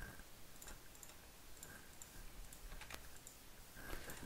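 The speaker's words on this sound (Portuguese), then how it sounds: "Copiar para aqui e dou um enter" A computer keyboard clicks quietly while someone works in an Excel spreadsheet, a few faint, scattered key taps over a soft background hiss with no talking.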